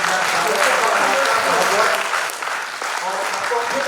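An audience at a healthcare conclave in a medical college gives loud, sustained applause. The dense clapping stays close and steady, easing slightly partway through and then continuing.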